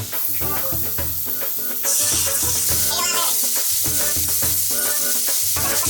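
Onion paste fries in a hot pan for a mutton dish, a loud dense sizzle that swells sharply partway through, with stirring scrapes and clatter underneath.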